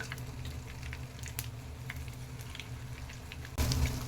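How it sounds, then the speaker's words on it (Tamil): Chicken 65 pieces fry in hot oil, a soft steady sizzle and crackle heard close by that swells briefly near the end as more pieces go in, with no talking. "இப்போ பாருங்கள், எண்ணெய் ஓரளவு சூடாயிடுச்சு. இப்போ நம்ம ஒவ்வொரு பீஸாக போட ஆரம்பிச்சிடலாம்."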